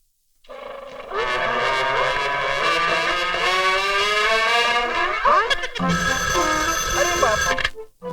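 A telephone ringing with a loud, sustained electronic ring tone that carries on for several seconds, close and prominent, with a brief break and change in tone before it cuts off.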